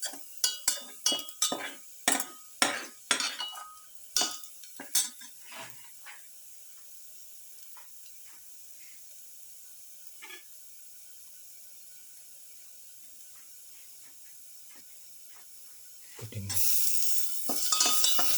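Stirring and scraping in a pan while sautéing onion with salt for a pepper garlic lamb and cauliflower stew, with a burst of sharp clinks and scrapes at first, then a quiet stretch, and a loud sizzle rising near the end.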